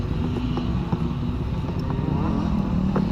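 Dirt bike engine idling, a steady low, close putter with a faint, uneven pulse and no revving, heard alone.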